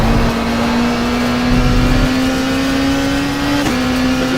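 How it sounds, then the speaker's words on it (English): A race car engine in a WTCC touring-car racing video game drones loudly and steadily, its pitch creeping slowly upward as it holds revs, with a brief shift near the end and no talking. "the sounds, the engine is very good"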